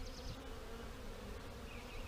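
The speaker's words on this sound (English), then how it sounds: "all I'm gonna do now is dump the rest of these bees in here" A honeybee swarm, caught in a swarm trap and being moved into a hive, fills the air with a dense, steady buzzing that holds close and even throughout, with no voices.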